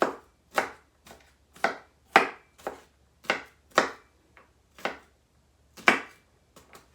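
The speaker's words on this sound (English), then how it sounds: "I have my onion chopped up" A kitchen knife chops an onion on a board, about a dozen sharp separate cuts at an irregular pace, close and clear, with quiet gaps between strokes and no talking.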